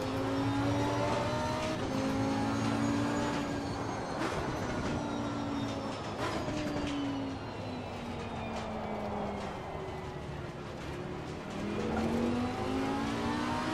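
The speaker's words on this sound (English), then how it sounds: "Oh, you hear the squeal of those tyres being punished." Race car in Assetto Corsa Competizione with tyres squealing under hard driving, sustained wavering high-pitched squeals over a loud continuous engine drone, rising and falling in pitch throughout.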